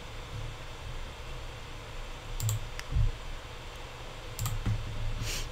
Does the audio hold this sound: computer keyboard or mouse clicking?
yes